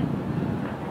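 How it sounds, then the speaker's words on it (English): Strong gusty wind blowing along a lakefront on a very breezy day, a loud continuous low roar buffeting the microphone with no pauses and no voices. "It was a breezy one down by the lake here today."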